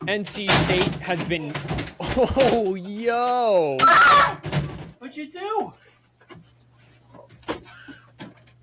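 A dog crashes into a bin and breaks it, making a loud, sudden clattering crash that stands out amid lively conversation from several people.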